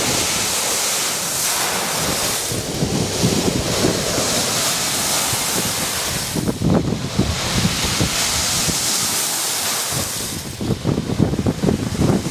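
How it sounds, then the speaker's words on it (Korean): Ice-laden waves wash ashore in a steady, roaring rush, with heavy swells surging and breaking continuously and wind buffeting throughout. "얼음 파도 본 적 있으신가요? 보통의 파도 소리보다 훨씬 더 듣기 좋습니다."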